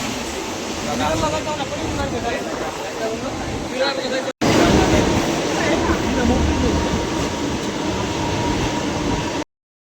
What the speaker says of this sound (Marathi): बसलोय बघा आम्ही ट्रेनमध्ये.